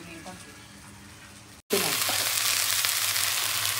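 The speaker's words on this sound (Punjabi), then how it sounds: "ਲਓ ਜੀ ਕਰੇਲੇ ਆਪਣੇ ਬੜ ਗਏ ਨੇ ਕੜਾਹੀ ਵੀ ਆਪਣੀ ਮੱਚ ਗਈ ਹੈ" Bitter gourds fry in a kadhai, a soft sizzle that jumps to loud, dense, continuous crackling after a brief break, with faint stirring underneath.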